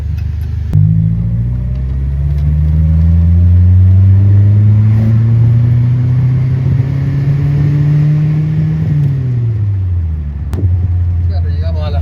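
A Toyota Corona coupe hardtop from the 1970s revs its engine loudly and close up, holding a rising drone for several seconds before dropping back to idle, with no talk over it.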